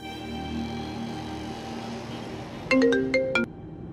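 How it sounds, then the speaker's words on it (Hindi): A telephone ringtone for an incoming call chirps in a short burst of bright, rapid electronic tones near the end, standing out over a steady low hum of room background. "इतनी सुबह सुबह फोन किया?"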